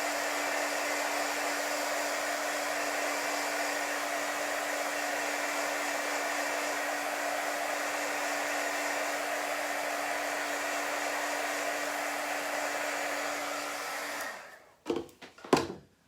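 A heat tool runs steadily and loudly for about fourteen seconds, drying chalk paste on a boho vintage truck craft project, then cuts off, followed by a few brief handling knocks.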